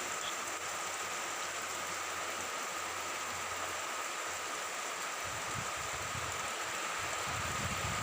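A continuous, even hiss of rain falling steadily, moderately quiet, with a slightly louder patter of drops on a surface toward the end.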